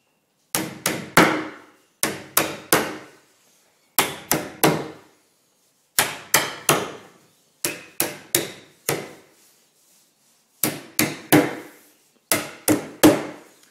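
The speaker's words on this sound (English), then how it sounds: "I'll just show you how easy it is to hammer them in" Hammer driving nails into an IKEA kitchen cabinet: sharp wooden blows in quick clusters of two to four, with short pauses between groups, close and clear with no talking.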